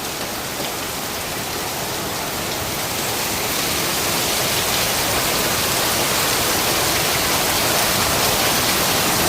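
Heavy rain pours steadily throughout, a dense, even hiss of water drumming on surfaces with no pauses and no voices.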